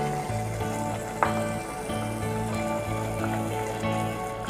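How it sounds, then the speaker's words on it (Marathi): Red chili powder, turmeric and coriander-cumin powder sautéing in a pan for paneer handi give off a steady, close sizzle with light stirring, one small clink partway through. "आणि हे छान परतून परतून घेणार आहोत आपण।"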